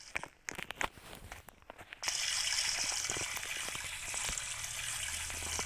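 Water running and splashing during a small child's bath at home, starting after a couple of seconds of quiet handling noises and then flowing steadily and fairly close.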